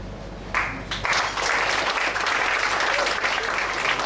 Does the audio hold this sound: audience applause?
yes